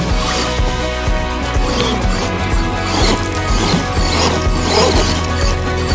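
A metal-bodied RC rock racer crashes and bashes over rough ground, loud repeated thuds and clattering impacts in a dense, busy stretch.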